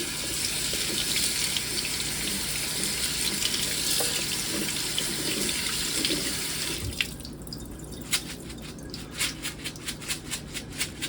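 Tap water runs steadily into a sink as lentils are rinsed, a broad hiss that cuts off partway through, leaving scattered drips and small splashes.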